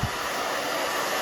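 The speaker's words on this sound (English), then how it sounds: "Just keep moving the hair around, move your blow dryer around." A handheld blow dryer blasts air while drying a short pixie cut, a steady close whooshing roar with no voices.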